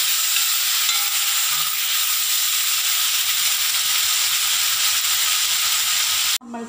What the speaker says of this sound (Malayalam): നമുക്ക് ഈ ഒരു തക്കാളി മുറിച്ചത് ഇതിലേക്ക് ഇട്ടിട്ട് ഇത് നല്ലപോലെ ഒന്ന് തക്കാളിയുടെ പച്ചമണം പോകുന്നത് വരെ ഒന്ന് വഴറ്റി